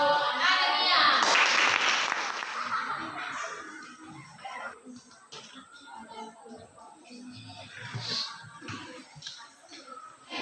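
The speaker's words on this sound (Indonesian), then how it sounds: "Tapi yang paling bagus hari ini tepuk tangan untuk kelompok anemia." Students in a classroom applaud a group presentation with a loud burst of clapping lasting a couple of seconds, then quieter chatter and talking carry on.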